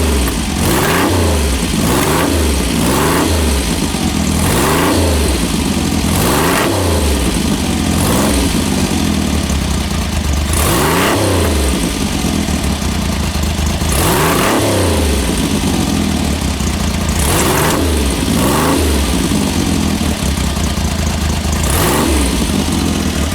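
A Triumph Hurricane X75 motorcycle is revved repeatedly with twists of the throttle, each loud close blip sweeping up and falling back over a constant idle, about a dozen revs in a row with no voices.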